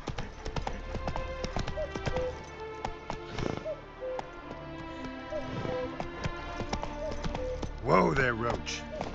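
Horse hooves galloping in The Witcher 3, a steady clip-clop rhythm under game sounds, with a voice shouting near the end.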